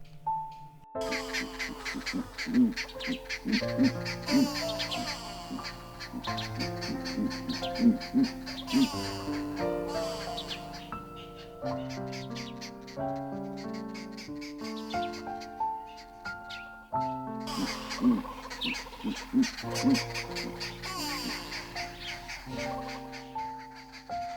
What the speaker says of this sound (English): I detected a pair of giant eagle owls sitting in a tree and talking to each other.